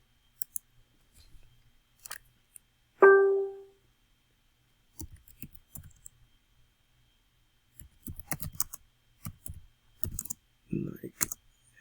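Someone types a prompt on a computer keyboard in short, scattered bursts of light key clicks, close and fairly quiet, with pauses between them and a talking voice nearby.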